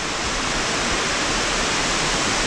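A waterfall in a snowy mountain VR climbing game roars as a dense, steady rush of falling water, constant and loud without any break.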